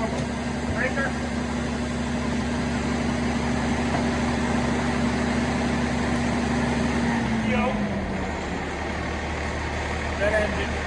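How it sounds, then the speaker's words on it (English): A truck engine runs at a steady idle, a continuous loud mechanical hum with a faint whine that drops in pitch partway through, with no other sounds over it. "Now we're going to start our truck off like normal."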